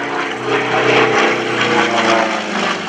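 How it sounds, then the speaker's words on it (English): Aerobatic propeller airplane rolling through knife-edge turns at the 2014 Greenwood Lake Airshow, its engine a steady loud drone with slight swells as it passes, no talk over it. "He went from knife edge to knife edge, rolling the airplane around."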